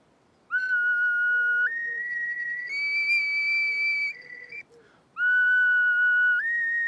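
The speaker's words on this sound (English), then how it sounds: "The duct flute certainly produces a clearer sound" A wooden duct flute much like a recorder plays clear, pure sustained notes that step upward in pitch in two phrases, with a short pause between them, heard alone and fairly close.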